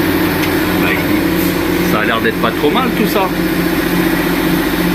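A 1.6 THP EP6 petrol engine shared by BMW, Peugeot and Citroën runs at idle with a steady, rough, tractor-like clatter and hum, loud and close, while someone speaks over it.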